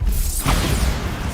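Bombarda spell cast in Hogwarts Legacy, a loud rumbling blast with a whooshing swell near the middle, dense low-end boom filling the short moment with no talking.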